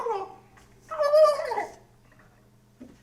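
Wild turkeys gobble outdoors, one loud rattling gobble burst in the middle after a shorter call at the start, then a faint call at the end over a quiet background.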